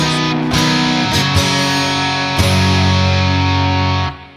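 Electric guitar blending clean and distorted signals, loud sustained chords with a few strums changing, ringing out before fading at the end.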